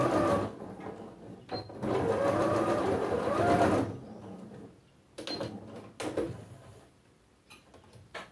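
A domestic sewing machine stitches a dish towel border, running in steady bursts with pauses and reverse backstitching at the end of the seam, fairly quiet with some handling noises.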